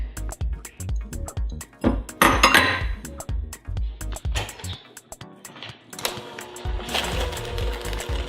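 An electric mixer creaming room-temperature butter with granulated and brown sugar in a bowl, its beaters chattering and clinking against the bowl in a rapid, uneven rhythm, close by with brief pauses.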